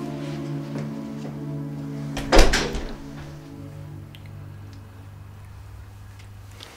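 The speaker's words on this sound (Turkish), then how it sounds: "Kapıyı da kapatayım da rahatsız eden olmasın." A door closes indoors with a single solid thud partway through, set against a steady tonal background hum.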